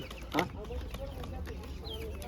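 Chickens cluck in short bursts at a busy poultry market, close by and mixed with the background bustle and people talking.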